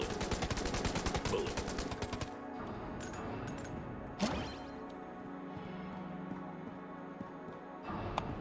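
Rapid bursts of gunfire in the game Enter the Gungeon, dense and rattling for two seconds, then sparser shots and a sharp crack over a steady backdrop of game music.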